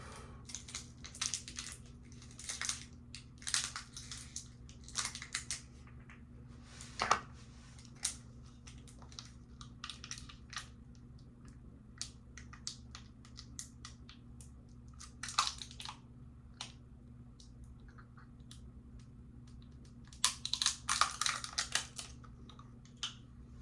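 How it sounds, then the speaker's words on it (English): Tape being picked at and peeled off the packaging of a ColdFire juice cartridge, with sparse crinkly tearing bursts and small clicks up close in a quiet room. "Just gotta get this tape off."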